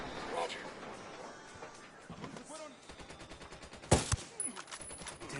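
Bursts of gunfire ring out in the video game Ghost Recon Wildlands as a squad opens fire on cartel enemies. A sharp cluster of shots comes near the end, with voices talking through the fight.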